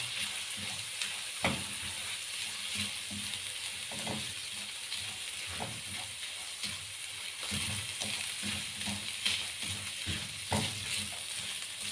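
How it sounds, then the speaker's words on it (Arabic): Rice stuffing with chicken liver and gizzards sizzles in a pan while a spoon stirs it, giving soft frying hiss broken by repeated scraping clacks at an irregular rhythm, close and moderately quiet. "هنقلب بقى المكونات دي كلها مع بعض كويس جدا."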